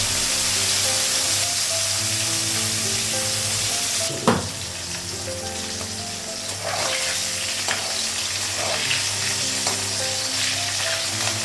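Fish frying in a hot pan: a loud, continuous sizzle with a low hum underneath, broken by a sharp clatter around the middle and followed by softer scraping and crackling as the sizzle goes on.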